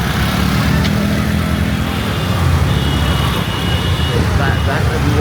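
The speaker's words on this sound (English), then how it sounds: "Look, that's all the traffic for people." Busy road traffic in Bengaluru, India: a dense, loud roar of engines and passing vehicles, continuous and close, with a brief horn-like tone in the mix.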